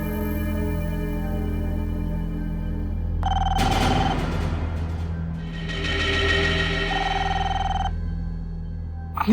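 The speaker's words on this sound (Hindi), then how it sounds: "किसका फोन है?" A telephone rings in two long electronic trills separated by a pause, clear and fairly close over a low steady hum.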